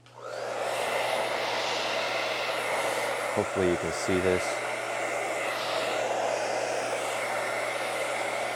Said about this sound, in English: Let me use my blow dryer again.